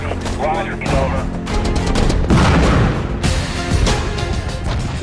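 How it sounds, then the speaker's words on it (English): Dense, loud bursts of machine gun fire in a firefight, with a second gun taking up from another position, rattling continuously amid booms and chaotic battle noise, with voices mixed in. "as one machine gun is silenced, another one opens up from a different position"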